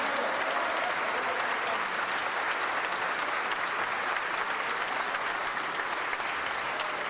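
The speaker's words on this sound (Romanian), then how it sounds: "Așa încât haideți să mai aplaudăm a 3-a oară." Sustained applause from a large audience at a university graduation ceremony, steady and dense throughout with no voices breaking through.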